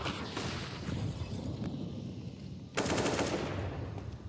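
AWP sniper rifle fire in CS:GO, with loud, sharp shots cracking amid dense game noise and a heavy blast near the end, no speech.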